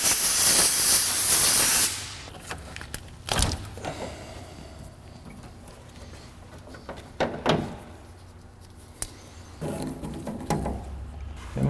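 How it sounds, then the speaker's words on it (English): On a Fox Body Fairmont, compressed air hisses loudly into a fuel tank line in a sharp opening blast, followed by several shorter hissing bursts and scattered handling clatter. "I'm going to try with some compressed air for the rest."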